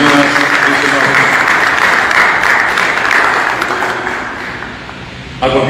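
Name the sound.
audience applause at solemn anniversary session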